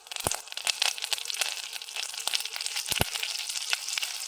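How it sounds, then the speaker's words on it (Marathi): Curry leaves dropped into hot oil already holding cumin, cinnamon, star anise and cloves, bursting into sharp crackles and spitting sizzle, with a few loud pops over a continuous frying hiss. "त्याच्यानंतर कढीपत्ता टाकते."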